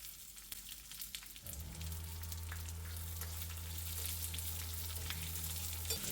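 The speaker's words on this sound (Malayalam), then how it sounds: "എനിക്ക് വെളിച്ചെണ്ണ ഒഴിക്കാം കുറച്ച് കടുക് ഇടാം കടുക് പൊട്ടി കഴിയുമ്പോൾ അതിലേക്ക് വറ്റൽമുളക് ഇടാം" Mustard seeds, dried red chilies, curry leaves and chopped shallots fry in hot coconut oil, a steady loud sizzle that swells as the shallots go in and holds under a low hum, with crackling pops throughout.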